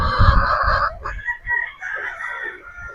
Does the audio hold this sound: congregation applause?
no